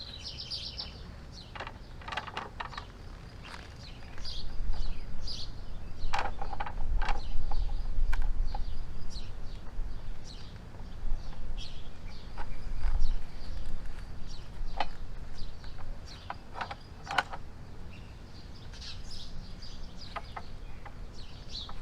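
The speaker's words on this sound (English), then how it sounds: "I'm just going to put this in the rebar bender that I made, and we'll just give these a little kink here" Steel rebar is bent in a homemade rebar bender at an off-grid site, with intermittent metallic creaks, clicks and squeaks rising over a low steady rumble, fairly quiet and close.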